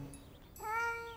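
A cartoon cat gives a short rising meow, alone and moderately close, lasting about half a second after a brief soft lead-in.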